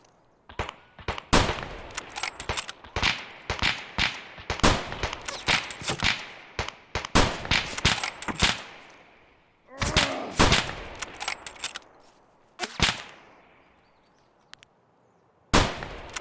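Gunshots in the shooter Escape from Tarkov ring out loud and close in quick bursts and single cracks, with pauses between volleys and a final isolated shot after a quiet gap.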